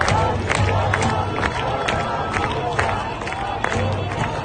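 Angry crowd in Iran, many voices shouting and clamoring together in a dense, continuous roar with scattered sharp shouts and bangs, loud and steady throughout.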